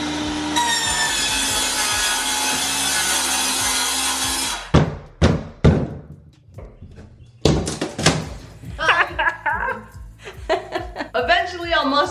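A large power saw rips through wood during a DIY bathroom remodel, a loud continuous cut for several seconds, followed by knocks, scrapes and clattering of wood and tools as people talk nearby.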